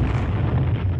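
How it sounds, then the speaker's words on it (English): A loud, deep rumbling roar from a blast, sustained and booming throughout with no voices. "causing an explosion that is heard all across the shallow valley"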